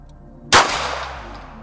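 A single sharp gunshot from a .22LR or 9mm handgun at a shooting session cracks out once and then decays into a brief echoing tail, heard alone at moderate distance.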